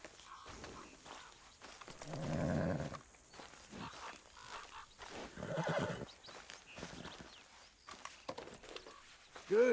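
A horse snorts and whinnies twice in short, breathy bursts, with hoof clops and shuffling steps between them, close and fairly loud in a quiet setting.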